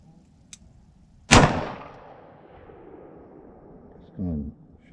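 A Ruger SP101 .357 Magnum revolver fires one loud, sharp shot up close, its report ringing and decaying over a couple of seconds, with a faint click before and a brief voice afterward.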